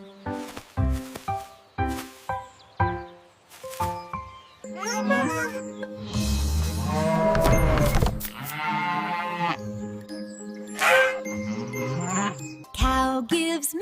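A cartoon cow in a kids' animated nursery rhyme gives a long, drawn-out moo amid bouncy, playful music and other short tonal sounds.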